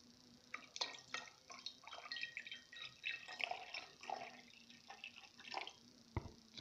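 Salt water dripped into a silver solution during silver recovery from CDs and DVDs, giving a quiet scatter of small irregular drips and splashes up close, one sharper tap near the end.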